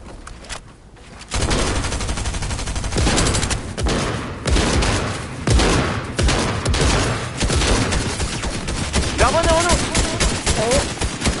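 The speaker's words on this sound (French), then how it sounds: "Derrière nous, ça tire." Gunfire in an online shooter video game, with sustained bursts of automatic fire and shots rattling continuously for several seconds, loud and close, under players' voice chat.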